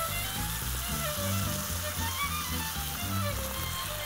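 Chicken pieces sizzling loudly in a hot pan as a splash of vinegar goes in, a dense, continuous close frying hiss with faint bubbling throughout and no talk.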